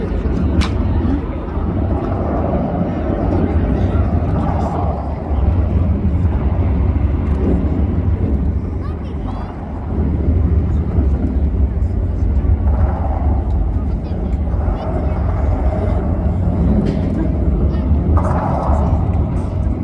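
World War II propeller fighter planes in a video game drone steadily throughout, a dense, rumbling engine roar with slight swells, under someone commentating in Polish.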